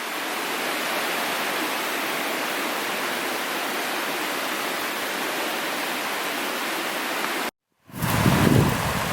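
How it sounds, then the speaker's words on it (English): A river rushes in a continuous broadband roar along the Eagle Rock Loop trail, loud and steady, then cuts out abruptly and resumes with a rougher, closer sound near the end. "The river looks like it's starting to widen."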